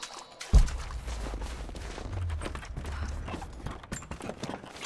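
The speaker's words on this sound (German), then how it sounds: "Hier sind viele Shotgun-Schüsse." Shotgun fire in Rise of the Tomb Raider, a sharp blast followed by a dense run of rapid crackling shots over a low rumbling game backdrop, continuing steadily without talk.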